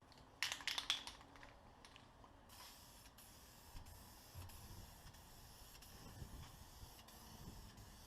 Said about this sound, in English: you saw me how I added the regular spray can spray paint